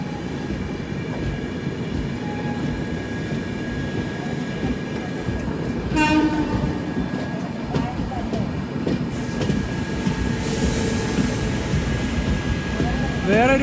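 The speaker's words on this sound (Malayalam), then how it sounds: "വേറൊരു ട്രെയിൻ ദൂരെ നിന്ന് വരുന്നത് കാണാം" The Konark Express running from Mumbai to Pune in the monsoon rumbles along continuously, with rail clatter, a few sharp clanks and a faint high whine over the steady roll.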